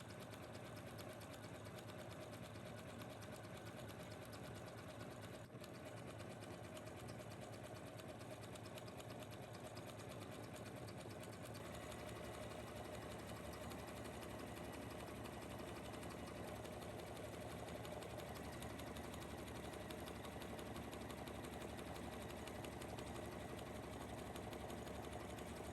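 A sewing machine runs continuously, stitching elastic with a zigzag stitch, its steady mechanical whir holding at an even, moderate level throughout with no talking.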